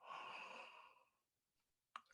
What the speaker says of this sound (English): And this is an experiment of yawning.